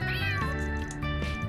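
A cat in the video game Trails through Daybreak II meows in a short series of plaintive calls over looping in-game background music.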